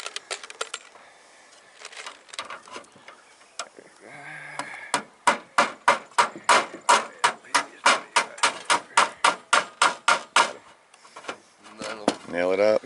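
Stainless steel nails are hammered into a single-wide mobile home trailer roof, a rapid run of about twenty sharp, evenly spaced metallic strikes up close, after brief speech at the start and before a voice returns at the end.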